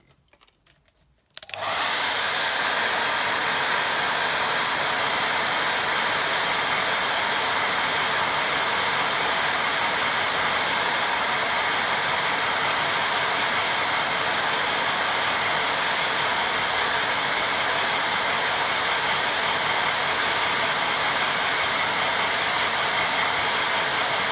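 A hair dryer switches on after a brief quiet moment and blows steadily and loudly, drying a painted drawing of a little boat, a constant whooshing roar to the end.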